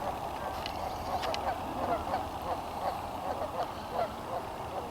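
A goose honks a few times at a moderate distance near an island, short nasal calls over steady outdoor background noise.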